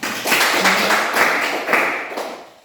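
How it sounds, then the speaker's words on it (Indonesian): A middle-school classroom of students claps after a group presentation, loud close hand clapping that swells and then fades over a few seconds, with a faint voice mixed in. "tepuk tangan dulu."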